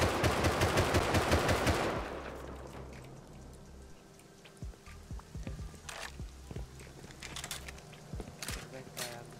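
Rapid automatic gunfire in the survival game Rust, a loud close burst of dense shots for about two seconds, then quieter scattered single shots beneath people talking.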